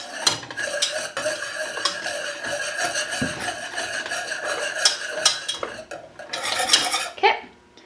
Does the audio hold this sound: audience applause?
no